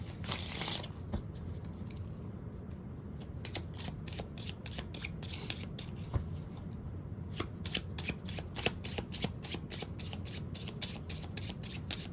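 Tarot cards are shuffled by hand, producing a long run of close, crisp riffling and flicking snaps with a busy, uneven rhythm, and no talking.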